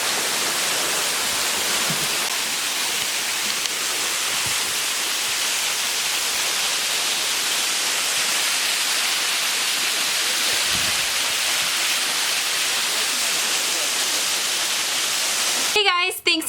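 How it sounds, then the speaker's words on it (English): A waterfall at a zipline canopy tour on a rainy day produces a steady, broadband rushing roar that fills the whole stretch at constant loudness, ending with a brief rustle. "We made it to the waterfall and it did not take an hour."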